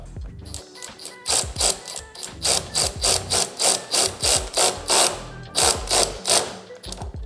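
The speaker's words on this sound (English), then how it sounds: "find my position, put the wrench on, snug it down" A wrench snugs an engine guard bolt onto a Softail motorcycle, producing a close, loud series of ratcheting click bursts in a steady back-and-forth rhythm, with no voices.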